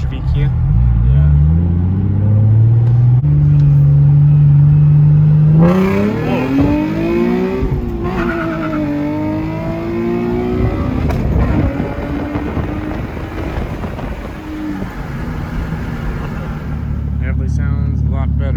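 Nissan Z with a VQ engine and a new Tomei exhaust revs up and down in loud, rising and falling sweeps, heard close with wind buffeting and a voice talking over parts of it.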